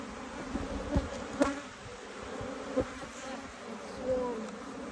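Honeybees hum close by during a hive inspection, a steady buzzing with a few louder passes as bees fly near, faint voices in the background.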